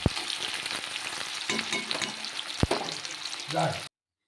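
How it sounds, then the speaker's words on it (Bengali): Sliced onions sizzling and frying in hot oil in a pan, browning to a reddish colour, with a steady crackle and occasional sharp stirring knocks, close and moderately loud. "এবার পেঁয়াজগুলোকে আমি একটু লাল লাল করে ভেজে নেব।"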